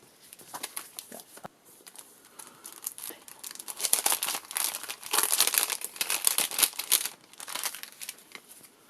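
A paper envelope is torn and opened, giving a steady run of crinkling and tearing paper up close, rising to louder rustles in the middle and easing toward the end, with no voices.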